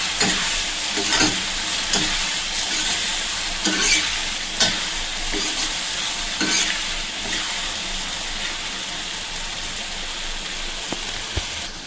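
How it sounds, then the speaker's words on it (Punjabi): Spice masala for malai kofta sizzles in a pan while being stirred, with repeated scraping strokes over a constant frying hiss, close up and with no talking. "ਹੁਣ ਮਸਾਲਾ ਫਰਾਈ ਹੁੰਦਾ ਪਿਆ ਹੈ"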